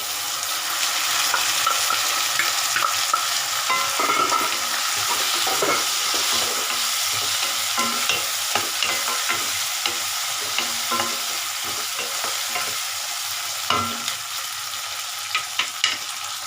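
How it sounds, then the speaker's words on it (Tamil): Onion and tomato sauté in a pan, cooked as the base for a bitter gourd stir-fry: a steady, close sizzle with intermittent spatula scrapes and taps as the mixture is stirred, with no talking. "நல்லா வதங்கிச்சு வெங்காயம் தக்காளி."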